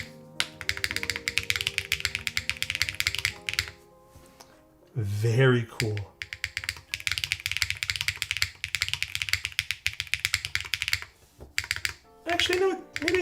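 Typing on a custom mechanical keyboard, an Integral build fitted with GMK keycaps, comes through as dense, fast clacky keystrokes in close bursts. Speech breaks in briefly between runs.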